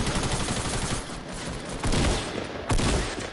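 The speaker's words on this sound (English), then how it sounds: "Yeah, the SMG." A submachine gun in a video game fires in sustained, loud automatic bursts, with two sharper heavy shots punching through near the end, close and without talk.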